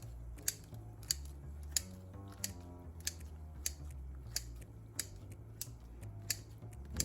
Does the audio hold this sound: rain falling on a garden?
no